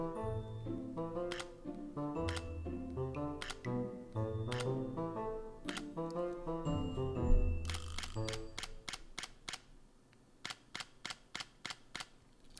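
Sony A7C camera shutter clicking, first over background music, then a rapid series of sharp, evenly spaced clicks alone near the end, close and fairly quiet.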